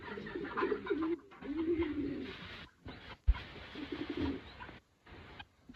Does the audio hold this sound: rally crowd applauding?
no